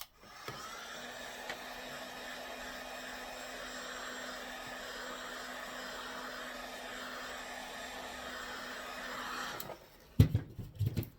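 A heat gun blowing hot air to heat a tube while servicing a fencing reel, a steady airy whir with a faint tonal hum that runs for about ten seconds, then cuts off amid handling clatter.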